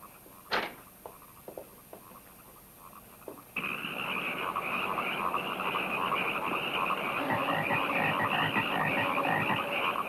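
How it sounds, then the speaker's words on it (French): A dense chorus of frogs croaking in a 1972 horror film, a few isolated knocks and croaks at first, then a sudden loud, continuous wall of overlapping croaks that swells and stays up close. "Des grenouilles à l'assaut des fenêtres"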